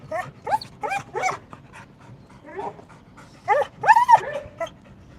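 A wolf dog whimpers and yips in short, high, wavering bursts, several close together and then a louder cluster near the end, with some panting in between.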